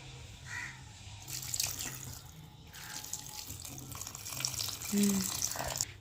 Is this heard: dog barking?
no